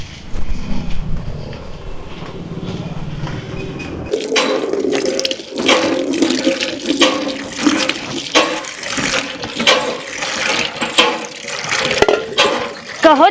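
Water gushes from a hand pump tap into a vessel outdoors. A steady loud pour with rhythmic pumping clanks runs through the clip, the gush splashing harder after the first few seconds, with no voices over it.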